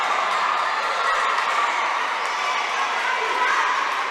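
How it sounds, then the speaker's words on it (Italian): A small crowd at a Serie A futsal match, cheering in a steady, even roar that holds level throughout without distinct claps or peaks. "Gioisce tutta la formazione in campo e applaude la squadra in panchina"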